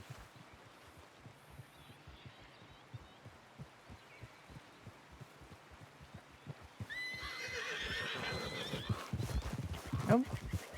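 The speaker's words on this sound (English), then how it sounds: "It's just the way they're standing made me think it was one bear when it's a couple of horses." Horses in a medieval roleplay video game whinny and neigh near the end, following a stretch of low, regular thudding hoofbeats; a voice talks over the later part.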